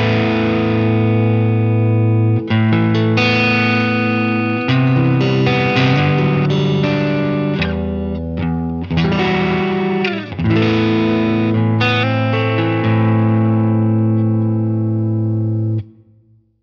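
Electric guitar played through an EarthQuaker Devices Plumes overdrive pedal, loud and driven, with sustained distorted chords and riffs for about sixteen seconds before cutting off.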